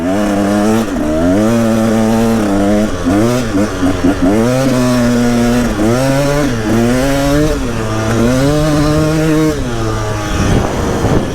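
A Husaberg TE 300 dirt bike engine buzzes close and loud while riding, its pitch rising and falling in repeated rev surges through gear changes, with a brief rider's voice over the engine noise.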